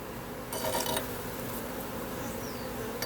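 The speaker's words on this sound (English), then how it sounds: "Have a whole set of bees here on the wall." Africanized honey bees drone steadily at an open hive, a continuous close buzz with a few light clinks of equipment early on and no talking.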